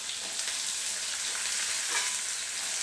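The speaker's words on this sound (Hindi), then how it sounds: "अदरक के टुकड़े, इसे भी मैं डाल दूंगी" Whole garlic cloves and ginger pieces fry in a pan with a steady, dense sizzle and crackle up close, continuous and even throughout, with no voices.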